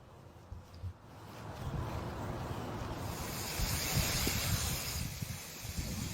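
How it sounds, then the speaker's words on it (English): A Rain Bird 1804 pop-up sprinkler head raised four inches and spraying water, a soft hiss that swells into a steady broadband rush partway through, heard alone at moderate distance. "I've got the head up and watering"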